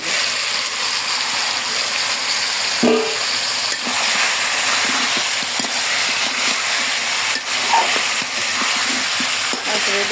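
Chicken pieces frying and being stirred in a pan for biryani, a steady close sizzle overlaid with repeated scraping and clinking of a utensil against the pan.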